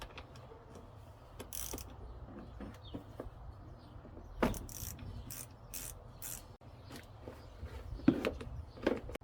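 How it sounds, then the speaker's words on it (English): A 10mm socket ratchet loosens the negative battery terminal on a 2008 Dodge Ram Mega Cab 5.7L V8 Hemi. Brief, faint ratcheting clicks come in scattered bursts over quiet background noise. "loosen up the battery terminal, and remove it off of the battery post with a 10mm socket or a 10mm tool"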